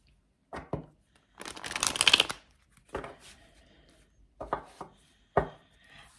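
Tarot cards are shuffled close to the microphone in a quiet room. The shuffles come as short papery riffles and slides in separate bursts, one longer riffle among several brief ones.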